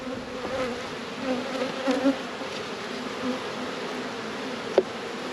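Honeybees hum steadily around brood frames lifted from a hive, a dense, close buzz with individual bees droning past, and a brief sharp knock near the end.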